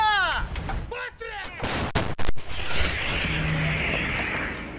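Ukrainian 152mm howitzers firing on the eastern Ukraine frontline, a voice speaking first, then a couple of sharp, powerful close blasts in quick succession, trailing into a long rolling rumble amid outdoor wind.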